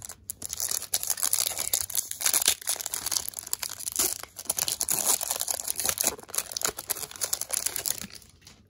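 A Pokémon Evolving Skies booster pack is torn open and its foil wrapper crinkled close up, with a continuous run of crackling, ripping and rustling and no talk over it.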